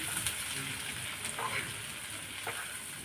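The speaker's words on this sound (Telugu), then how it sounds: "కలుపుకుంటూ ఫ్రై చేస్తూ ఉండాలి" Boiled chickpeas and fried onions with chili powder sizzle steadily in a pan as they are stirred, with the scraping of the spoon heard close up throughout.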